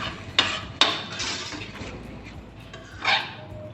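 A spoon clinks sharply against a cooking pan a few times while chili garlic sauce is mixed into a masala, with soft scraping stirs between the knocks in a quiet kitchen.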